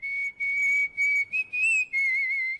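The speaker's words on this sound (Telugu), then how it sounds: "ఏ విజిల్ అంత బాగుందా?" A person whistles a short tune, a clear, loud and close series of pitched phrases with brief gaps and small pitch bends. There is no other sound behind it.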